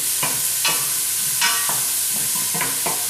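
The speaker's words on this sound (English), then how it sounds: "stirring." A spoon stirs softening vegetables in a pot for corn chowder, with a few scraping strokes over a steady sizzle.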